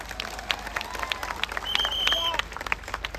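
Scattered crowd applause at a public political gathering welcoming Arvind Kejriwal, faint and distant, with uneven claps and a brief whistle over a murmur of voices.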